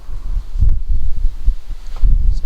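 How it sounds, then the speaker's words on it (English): Wind buffets the microphone in low, gusty rumbles, steady throughout with brief stronger bursts, during outdoor work on a Rover 25. "It's so bloody windy."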